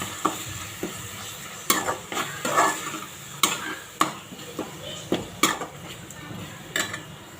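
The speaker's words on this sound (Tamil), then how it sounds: "நல்லா வதங்கிருச்சு. பச்சை வாசனை போக வதங்கிருச்சு." Chickpeas being sautéed in a pan for chana biryani, a spoon stirring and scraping steadily with sharp clinks against the pan over a soft background sizzle, close and fairly loud, no talking.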